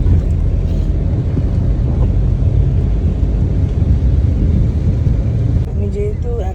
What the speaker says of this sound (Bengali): সব জায়গায় বৃষ্টি হচ্ছে